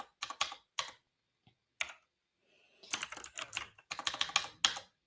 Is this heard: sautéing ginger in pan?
no